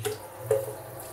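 Water runs from a very tall kitchen tap into a sink, a soft steady wash with a couple of brief splashy bursts.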